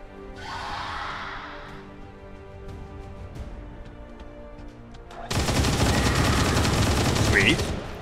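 Rapid-fire gunfire bursts out suddenly in the XCOM 2 Long War of the Chosen mod, a dense, loud volley lasting a few seconds, preceded by quieter game ambience.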